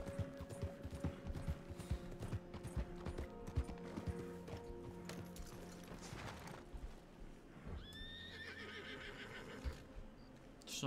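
A horse in Red Dead Redemption 2 whinnies and snorts over steady clip-clopping hooves and low mechanical rattles, moderately close, ending with a high shrill neigh near the end.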